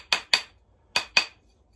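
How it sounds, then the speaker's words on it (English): Rawhide jeweler's hammer striking a silver ring as it is bent into a circle, four sharp taps in two quick pairs, close and clear against a quiet room. "I'm also using what's called a jeweler's hammer, which is made out of rawhide."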